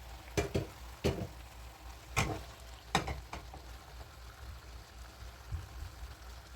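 Tomatoes, peppers and eggplant fry in a pan, a soft steady sizzle broken by several sharp clacks and scrapes of a utensil against the pan, close by with no talk.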